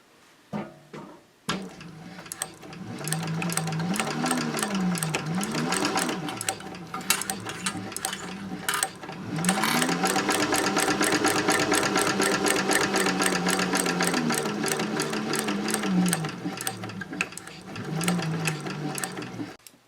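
Sewing machine running a side seam on a fabric caddy, a steady close mechanical whir with rapid needle ticks, running in two long stretches with a brief stop between.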